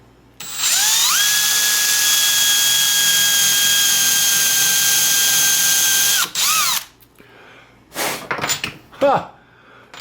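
A power drill drilling wood whines at a steady high pitch for several seconds, spins down, then gives a few short bursts, with brief talk afterward.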